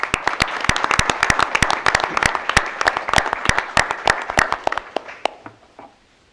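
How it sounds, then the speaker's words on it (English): Applause from an audience at a school district board of education meeting, honoring an Elks Student of the Month: a modest crowd clapping steadily and fairly close, with individual claps distinct, thinning out and stopping near the end. "So how about a round of applause for Chelsea Evanich?"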